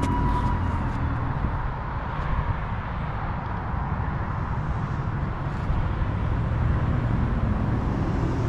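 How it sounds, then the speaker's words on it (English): Loud road traffic with a continuous low roadway rumble of passing vehicles that swells and fades slightly but never stops, heard outdoors without speech. "The traffic's loud."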